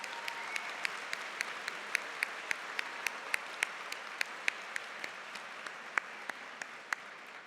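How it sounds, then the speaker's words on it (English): Graduates receive a faint, steady round of applause at a spring convocation ceremony, with a few sharp, distinct claps standing out at regular intervals above the distant wash of the crowd. "let's give them a special round of applause"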